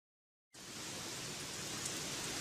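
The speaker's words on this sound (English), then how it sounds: "It's raining cats and dogs again." After half a second of silence, heavy rain sets in as a dense, steady hiss that stays even and fairly soft to the end.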